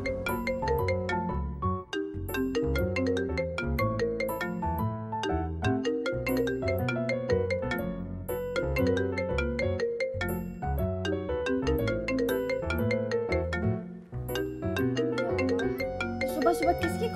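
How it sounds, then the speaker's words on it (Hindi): A phone ringtone plays in a Pakistani drama scene, a loud melodic electronic tune repeating steadily for its whole length with only brief dips. "सुबह सुबह किसकी कॉल आ गई?"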